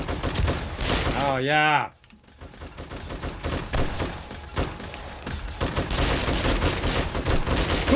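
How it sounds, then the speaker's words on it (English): Automatic turrets fire in the video game 7 Days to Die as a dense, continuous burst of gunfire that keeps going after a brief drop, with a short spoken exclamation near the start. "Even if I freeze up, my turrets are still going."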